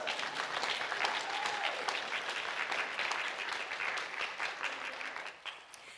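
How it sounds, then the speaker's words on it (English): Audience clapping in a gathering, a steady, dense round of applause heard at a distance that holds evenly for several seconds and then thins out and fades near the end. "It is okay to clap right now."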